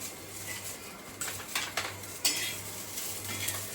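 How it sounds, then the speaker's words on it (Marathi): Garlic cloves dropped into a hot pan of roasting green chillies bring a few soft clinks and stirring scrapes over a low steady sizzle, with no talking. "आता याच्यामध्येच मी हा लसण घालून देते"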